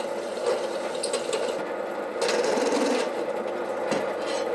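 A step drill bit chamfers the edge of a drilled hole in metal, using its 12mm shoulder after drilling to 10mm. The cutting comes as a steady, continuous whirring grind with a rough, scraping texture, close up and without talk.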